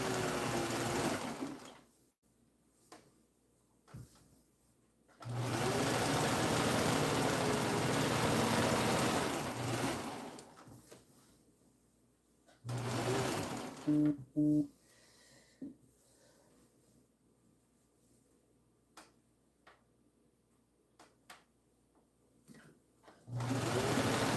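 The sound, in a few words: sewing machine stitching quilt blocks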